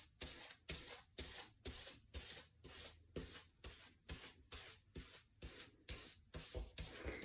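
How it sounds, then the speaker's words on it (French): A brush spreads mixed bookbinding glue in a star pattern on paper for a long-stitch binding, making a close, steady run of short scraping strokes in an even rhythm with no other sounds. "Je prends de la colle mélange et je viens disposer la colle en étoile"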